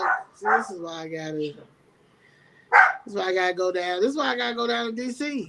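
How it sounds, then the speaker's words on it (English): A dog barks and whimpers a few times close by, its short yelps mixed in with someone talking over it. "That's my dog."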